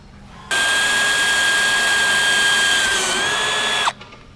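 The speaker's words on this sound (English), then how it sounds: "take our 3/8 drill bit, drill straight up into the bottom of the box" A power drill with a 3/8 bit whirs steadily at high speed for about three seconds, drilling a drain hole into the bottom of a box, starting abruptly and winding down at the end, close and loud with no talking.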